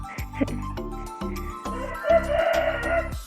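A rooster crows loudly and close by, a drawn-out cock-a-doodle-doo with clucking and other fowl sounds around it.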